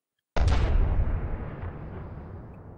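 Advanced cannon firing an incendiary round in From the Depths: a single sudden heavy boom after a moment of silence, followed by a long rumbling decay.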